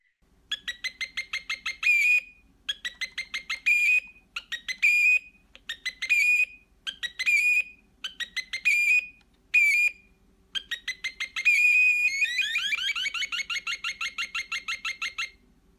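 An analog electronic circuit inside a bird figure chirps in imitation of birdsong: repeated bursts of rapid trills with short gaps, ending in a longer warbling run, clear and close.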